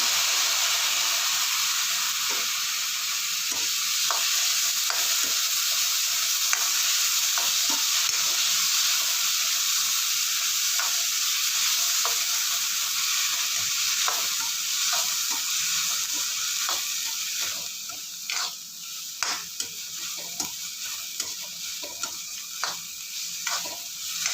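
A steady sizzle from chopped tomatoes sautéing in a pan with onions, with frequent spoon scrapes and taps as they are stirred, nearby and without voices.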